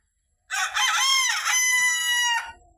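A rooster crows once on a farm with Fayoumi chickens on a cloudy day. The call is loud and close, with a long, wavering, drawn-out crow that stands alone against near silence.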